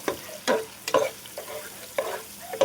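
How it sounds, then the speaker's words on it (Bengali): Chicken liver, chopped chicken and onion frying together in a pan, with several loud bursts of stirring and scraping over a steady sizzle, no voices. "নিচ্ছি পেঁয়াজ আর কলিজা আর মুরগির মাংস আমি একসাথে দিয়ে দিচ্ছি। এটা ভাজা ভাজা হবো।"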